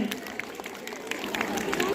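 Sustained applause from an audience for a student at a school annual day and result declaration ceremony, dense steady clapping mixed with crowd babble and nearby talk throughout.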